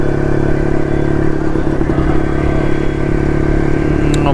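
Vintage CZ Jawa 353 motorcycle engine running steadily at idle, a continuous close mechanical drone with light clatter and no rise in revs.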